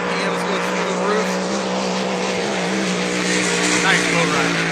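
A hydroplane race boat at the APBA Gold Cup, Madison Regatta, screams at high RPM in a loud, sustained, steady engine roar that fills the whole moment.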